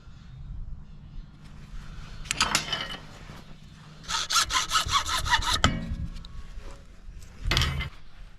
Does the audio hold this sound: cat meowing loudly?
no